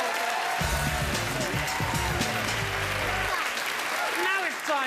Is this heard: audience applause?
yes